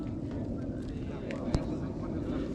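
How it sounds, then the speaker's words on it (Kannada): An IndiGo airplane takes off in Ladakh among the Himalayas, heard as a steady, broad roar that holds evenly throughout, mixed with wind buffeting and a brief sharp knock near the middle. "ನೋಡಿ ಇದು ಪ್ಲೇನು ಈಗ ಟೇಕ್ ಆಫ್ ಹೋಗ್ತಾ ಇರೋದು."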